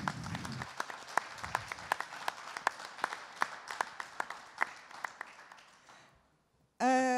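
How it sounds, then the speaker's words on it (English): Applause at a World Rally Championship pre-event press conference in Portugal honoring a photographer's 400th rally, a steady patter of clapping with sharp individual claps standing out, fading out near the end before a brief burst of sound. "which I think deserves a round of applause"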